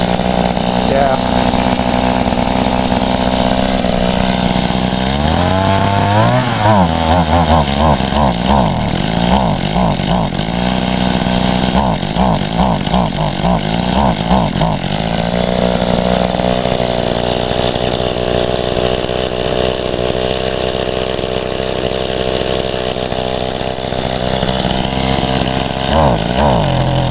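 Echo gas-powered two-stroke equipment low on fuel, running loud and close, revving in bursts that rise and sag as it bogs, with people talking over the engine.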